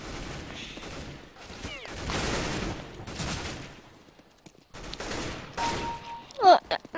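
Automatic gunfire from a Negev machine gun in Counter-Strike: Global Offensive, sustained bursts of rapid shots with short gaps, alongside other game sounds and a brief sharp ping near the end, with a voice talking over some of it.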